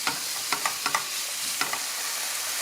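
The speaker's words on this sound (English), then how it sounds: "What I want to do now is get my thighs nice and browned, and I want to get my onion nice and translucent." Chicken thighs and onion browning in a pan give a steady broadband sizzle, with a few sharp utensil scrapes and taps as they are stirred, close and moderately loud, no talking.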